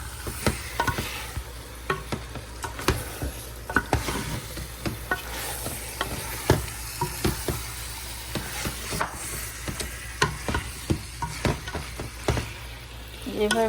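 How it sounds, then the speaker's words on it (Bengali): Chicken pieces are stirred and fried with spices in a pan over medium-high heat. The scraping strokes fall in an irregular rhythm over a continuous close sizzle. "এটা এখন মশলার সাথে মাংসগুলো দিয়ে আর একটু কষাবো এভাবে কষাতে সময় নেড়ে চেড়ে কষাইতে থাকবো"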